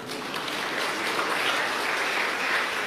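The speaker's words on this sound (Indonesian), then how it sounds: "dengar kata permanen orang tepuk tangan gitu saudara" A church congregation applauding during a sermon, a continuous crowded patter of clapping that swells slightly and stays steady throughout.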